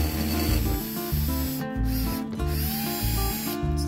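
Close power drill boring screw holes for mounting an antler door handle, a whirring motor in repeated short bursts with rising and falling pitch and rhythmic pulses, no voices.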